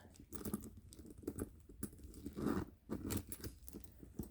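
Thin plastic wrapping crinkles and tears off a Coach wallet, close and quiet, in a quick run of small crackling and rustling bursts.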